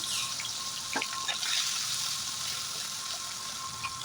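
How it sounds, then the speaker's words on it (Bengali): Fish fries in mustard oil with a steady, close hiss and crackle, a few brief louder pops and light utensil touches, no talk. "সেইখানে ওই তেলের মধ্যে আমি এটাকে ভেজে নেবো"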